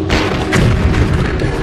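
A French 75 field cannon fires, giving one loud, close, deep boom that rolls on as a sustained low rumble with no voices.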